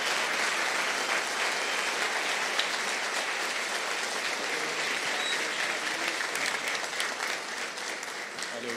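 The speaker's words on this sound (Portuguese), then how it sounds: "Vamos aplaudir Jesus por essa equipe maravilhosa" A church congregation applauding during a Brazilian evangelical service, a steady, moderately distant roar of many hands clapping that holds evenly throughout.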